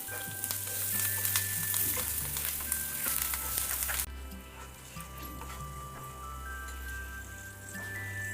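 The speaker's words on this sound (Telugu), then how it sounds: "మనం సన్నగా తరిగి పెట్టుకున్న పచ్చిమిరపకాయల్ని కూడా వేసుకొని చక్కగా కలుపుకుందాం." Finely chopped green chillies and turmeric fry and are stirred in oil in a pan for chole masala, making a continuous close sizzle with light crackling that briefly softens midway, no voices.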